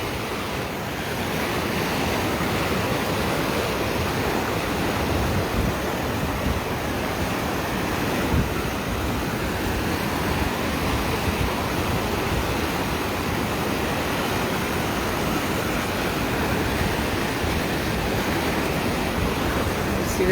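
Whitewater rapids at a whitewater center pouring over a drop into a trough, a steady loud roaring wash of water with wind buffeting the microphone throughout, no voices heard.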